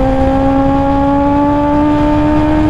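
A Kawasaki ZX-10R superbike engine revs hard at close range, a loud, sustained high-pitched drone that climbs slightly in pitch and never lets up.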